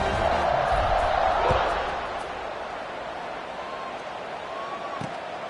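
Stadium crowd noise in an NCAA college football video game after a touchdown drive, with loud cheering and roar swelling at first and then easing into a lower, steady crowd murmur that persists under the game audio.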